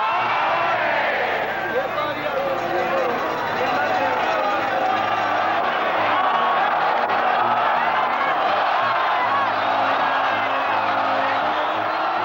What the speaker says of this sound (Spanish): en los tendidos comenzaron a fundirse los gritos que vitoreaban al novillero y los que pedían el perdón